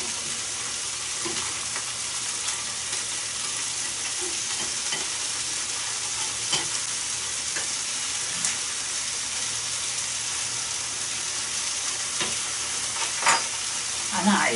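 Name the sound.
mushrooms and onions frying in lard, being turned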